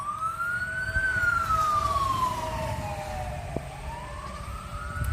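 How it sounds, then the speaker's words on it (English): An ambulance siren wails past on a nearby highway, its pitch sweeping up and then sliding down as it goes by, with a second rising wail at the end, all over steady road traffic rumble and no talking. "hold on, there's an ambulance or something going by"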